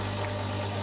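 An indoor mini aquaponics bell siphon draws water down from a grow bed with a steady, close rushing and gurgling drain in one continuous pull.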